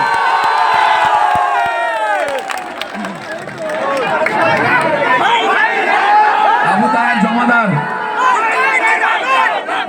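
A large outdoor crowd welcomes guests with flowers and garlands amid loud cheering, shouting and excited chatter, voices rising and overlapping throughout with scattered whoops; clapping is hard to pick out beneath the shouting.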